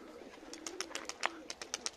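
Pigeons in a loft give soft, close, repeated cooing calls in a quick series, mixed with a few sharper chirps and faint rustling.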